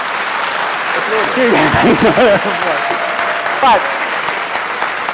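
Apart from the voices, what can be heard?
audience applauding at a debate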